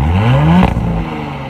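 A 2023 Audi SQ5 V6 engine gives a short, rising rev that cuts off abruptly and then settles into a lower rumble, close and loud.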